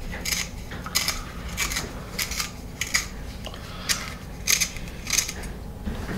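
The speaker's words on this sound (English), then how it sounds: "Let's sharpen this one up a little bit." A natural cedar pencil being sharpened, heard as a series of separate scraping, shaving strokes, close and fairly quiet, with no talk.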